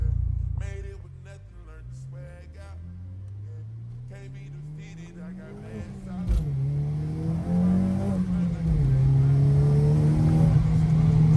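A 10th-gen Honda Civic Si fitted with a new hybrid short shifter accelerates through the gears, engine revs rising, dropping at each shift and climbing again, steady and close with no talking.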